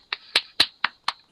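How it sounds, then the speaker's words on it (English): Applause for performers at an international night in New Mexico, heard as a quick run of six crisp, close claps in an even rhythm. "a big round of applause for our tellers and our playwrights and our teachers"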